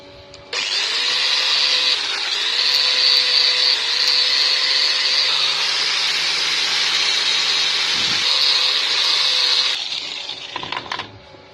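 Grinding a one-meter metal square rod gives a loud, close, steady high-pitched whine with a harsh, gritty edge for about nine seconds before it winds down, followed by a few light knocks.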